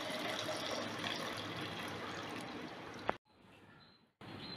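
Homemade masala chai pours steadily through an old tea strainer, a dense, close liquid rush lasting about three seconds that cuts off abruptly, then resumes after a short quiet gap.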